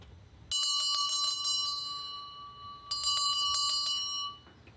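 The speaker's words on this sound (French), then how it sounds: "Le retentissement de la cloche vient rompre le silence pour indiquer aux retraitants la fin du temps de prière personnelle et le début d'un atelier" A bell rung at a retreat house to close a period of silent prayer gives two bright bursts of rapid metallic strikes, each about a second long, separated by a quiet pause, with a ringing tone lingering between and after them. No voices.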